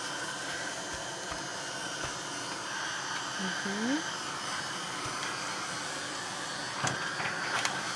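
A heat tool blows over wet paint in an art journal, making a steady, moderately quiet whirring hiss that runs throughout with small clicks and shifts near the end.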